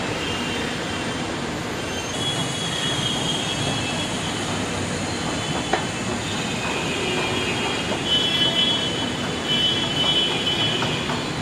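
A Mumbai Metro train rumbles steadily with a constant roar, with faint metallic squeals and a brief click partway through. No one speaks.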